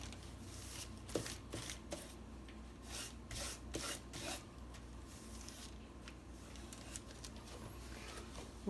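A carbon steel Santoku knife being sharpened, with repeated rasping strokes in an uneven rhythm, close and moderately loud, heard alone without talk.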